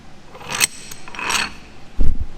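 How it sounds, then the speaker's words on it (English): Auto-locking clips on an Eleiko Russian barbell rattle and clink in a few short metallic bursts, close and fairly loud, with a dull knock near the end. "they do this cool little rattle clinky clinky thing"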